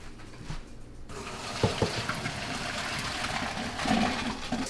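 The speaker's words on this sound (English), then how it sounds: "And let's drain the pasta." Pasta water poured off into a kitchen sink, a steady rushing splash of liquid running for several seconds, close and continuous.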